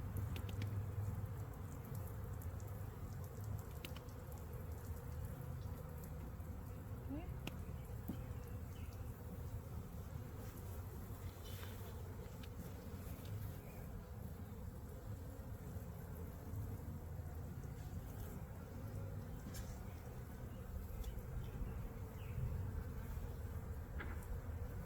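Honeybees buzz steadily and close throughout an inspection of an overwintered hive and a two-week-old package colony, a dense continuous hum with faint handling taps and no talking.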